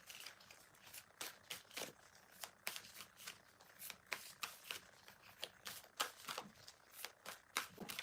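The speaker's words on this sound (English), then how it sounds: "I'm going to pull a card from here" Oracle cards shuffled and pulled from a deck, a steady series of close, crisp papery flicks and riffles repeating roughly every half second throughout.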